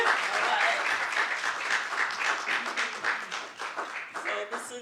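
Audience clapping at a literary poetry read-out while a speaker walks up, a steady moderate round of applause with some voices mixed in, tapering slightly toward the end.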